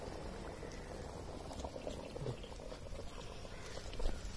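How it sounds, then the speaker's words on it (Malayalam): Fish curry made with coconut milk and a locally caught snakehead bubbles close by, a soft steady boil with small popping bursts and no talk over it. "തിളച്ചു, ഒത്തിരി തിളക്കേണ്ട ആവശ്യമില്ല, ഒന്ന് തിളച്ചാൽ മതി."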